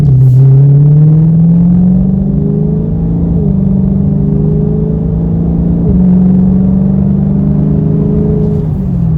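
A Dodge Charger Scat Pack's V8 drones loudly from inside the cabin while driving, a deep steady rumble that rises in pitch through gear pulls with brief dips between shifts, no talking.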